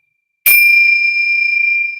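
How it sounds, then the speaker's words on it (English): A Tibetan bell is struck once, giving a sharp, loud ding that rings on as a clear, steady tone slowly fading over a couple of seconds, alone in silence. "So with these Tibetan bells, I want you to know I offer you peace."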